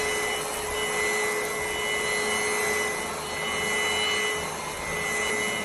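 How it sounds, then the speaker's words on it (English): A vacuum cleaner runs steadily and loudly up close on carpet, a constant whirring roar with a thin high whine and no pauses. "press this button right here, and let's vacuum"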